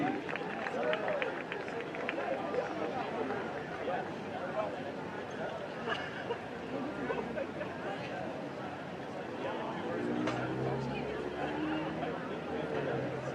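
Crowd at a night track meet, a broad roar of cheering and chatter from the stands with thudding footfalls, under an announcer speaking.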